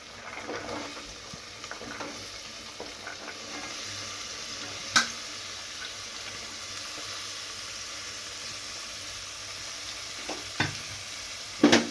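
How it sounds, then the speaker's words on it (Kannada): Chopped vegetables go into hot oil for a vegetable pulao and are stirred, making a steady soft sizzle under light scraping, with a few sharp utensil knocks against the pan and no voices. "ಇವು ತರಕಾರಿ ಕಟ್ ಮಾಡಿ ಇಟ್ಕೊಂಡಿವಲ್ಲ ಇವನ್ನೆಲ್ಲ ಈಗ ಹಾಕಿಬಿಡಂತ ಇದ್ರೊಳಗೆ"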